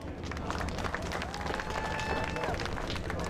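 A crowd claps and cheers at a flat track motorcycle race, a dense, continuous wash of applause with general hubbub and some talk underneath, fairly loud and outdoors.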